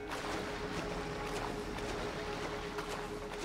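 A minisub in Grand Theft Auto V cruising through water, heard as a steady, muffled underwater wash with a constant low hum running throughout, with no talking over it.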